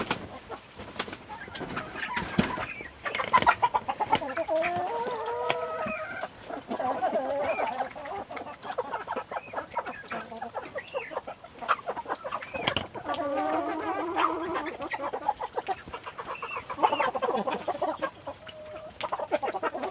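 Backyard chickens in a winter coop cluck and croon in uneven bursts, close and moderately loud, with brief quieter gaps between calls.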